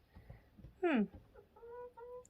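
A few short, faint clucks from laid-back chickens in a backyard coop, one louder call rising over soft background murmur and quiet rustling.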